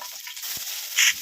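Curry leaves and mustard seeds frying in hot oil in a pan, a soft steady sizzle with a brief brighter crackling burst near the end, close and fairly quiet.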